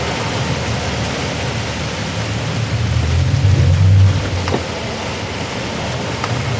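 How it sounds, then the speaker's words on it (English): Steady cold spring rain hisses evenly all around, with a low rumbling swell in the middle, continuous and fairly loud. "this is a cold rain"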